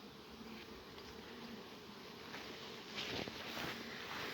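Honeybees drone around an open beehive being inspected, a dense, steady buzz of many insects close by that swells slightly toward the end, with no voices.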